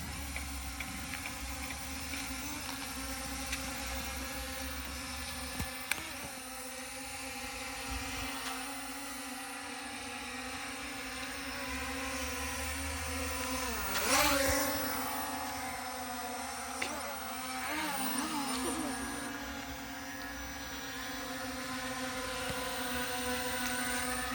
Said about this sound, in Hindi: तो गाइस अपने दोनों ड्रोन काफ़ी स्टेबल फ्लाई कर रहे हैं